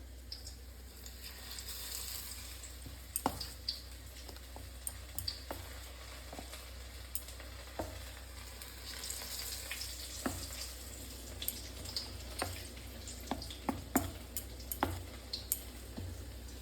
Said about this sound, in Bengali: এই যে মোচাগুলোকে এখন কড়াইতে ভেজে নেব, এরকম বেগুনের মতোই গোল গোল পিস করে।